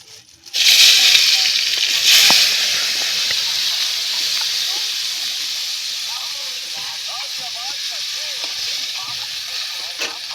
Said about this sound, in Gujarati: તેલ ફ્રાય થઈ ગયું છે અને હવે અમારે મરચા અને મસાલો નાખવાનો બાકી છે